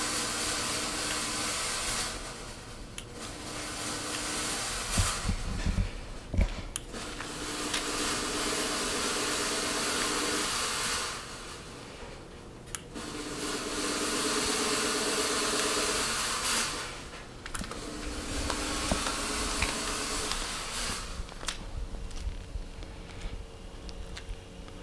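Halloween ground fog machine running with ice, a steady loud hissing blow that stops briefly and resumes several times, alone without talk.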